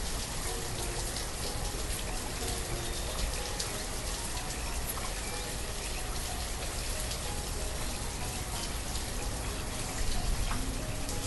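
Steady, dense rainfall patters close by in an even, unbroken wash with no clear thunder rumble standing out, and no voices.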